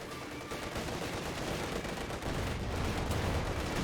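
Tank guns in the video game Company of Heroes 2, with T-34s trading shots against Panzer IVs, fire in a dense, rumbling barrage of overlapping blasts that carries steadily with no talk.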